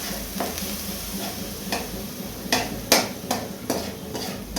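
Tomato paste sautéing in a pan for egg masala: a constant close sizzle broken by several sharp spatula scrapes and taps against the pan, louder toward the end, with nobody speaking.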